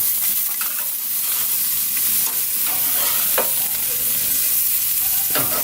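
Bison sliders sizzle over an outdoor grill with a small firebox, a dense continuous hiss punctuated by a few sharper clicks and pops, close and loud.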